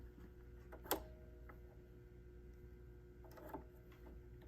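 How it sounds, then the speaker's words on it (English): A BERNINA sewing machine's needle threader in use, heard as a faint mechanical click and snap near the start and a softer pair of clicks later over a low steady background hum in a quiet room. "let's be really smart and use the needle threader"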